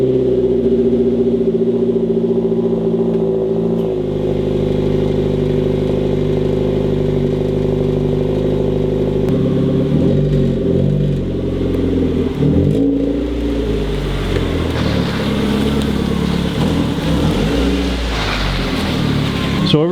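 A Mazda 3 engine hums steadily as the car is driven out, with the engine note shifting midway and a rougher rumbling from tires and motion building toward the end.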